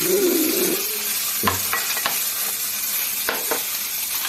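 Mint and coriander leaves fry in a pan with a steady, close sizzle, broken by a few short scrapes and clicks of stirring.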